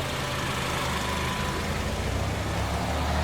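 Steady, even rumble of a Ford Coyote engine idling in a 1955 Ford F100, continuous and unchanging, with broad noise and a low droning hum.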